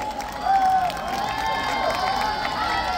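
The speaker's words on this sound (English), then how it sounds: "Kindly give them a big round of applause" Audience applauding and cheering after a children's performance at a Clean India, Green India school event, a steady wash of clapping and crowd noise with a high sustained tone running underneath.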